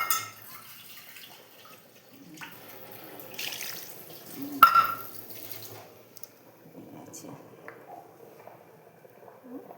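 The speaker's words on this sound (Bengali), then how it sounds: "একটু জল দিয়ে দিই" Water pours into a pan of cooking fish, a short splashy burst at mid-clip amid faint dripping and quiet kitchen noise, with no voices.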